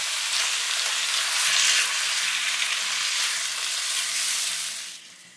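Chicken with turmeric and a tablespoon of yogurt is mixed in a hot pan, giving a steady close sizzle that fades out near the end, without any speech.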